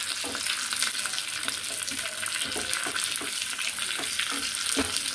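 Garlic fries for an Andhra-style tomato dal, giving a steady, broadband sizzle with faint stirring scrapes and small clinks, continuous and fairly close throughout.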